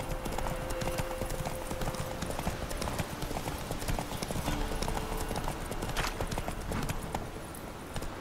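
Steady clip-clop of horse hooves galloping in The Witcher 3, a continuous rhythmic pounding at close range that runs the whole time, with a faint voice murmuring underneath.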